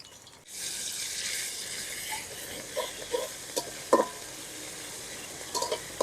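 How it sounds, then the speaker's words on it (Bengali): Onions browned in oil sizzle steadily as ginger and garlic paste is added, with soft scraping stirs and a few sharper clinks of a spoon against the pan. "রসুন পেঁয়াজ লাল লাল করে ভাজা নিছি। আদা বাটা রসুন বাটা দিয়ে দিলাম।"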